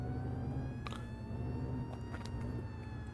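A steady electronic fire department siren tone in the game Flashing Lights drones over a low rumbling engine hum, with a few brief clicks scattered throughout.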